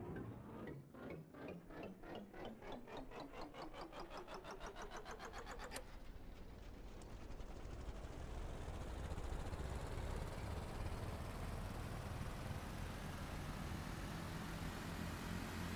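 A simulated vehicle engine in the Stormworks game held at full throttle: rapid pulsing firing that quickens and merges into a continuous loud, dense roar, steady to the end with no voices.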